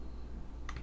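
A few quick computer keyboard keystrokes, clustered near the end over a low steady room hum, close and fairly faint with no voices.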